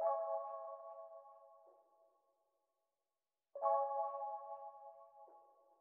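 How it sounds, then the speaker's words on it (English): Two soft, bell-like Rhodes electric piano chords, each ringing out and slowly fading, separated by a moment of silence. "this is what the Rhodes sounds like"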